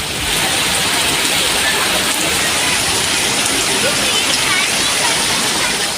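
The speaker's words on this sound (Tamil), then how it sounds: "கனமழை கொட்டியது" Heavy rain pours down steadily during a storm with strong winds, a dense, loud hiss of water that holds constant from start to finish with no break.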